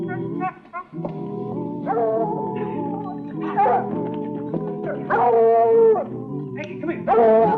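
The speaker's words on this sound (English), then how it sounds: "That dog, he might raise a rumpus." A dog in a Western TV drama barks and howls in a run of yips, whimpers and drawn-out wails, loud and close, mixed with music and other sound.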